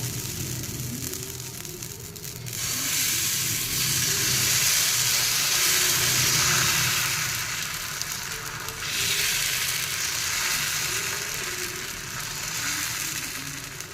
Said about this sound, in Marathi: तर परत आहे बॅटर घालूया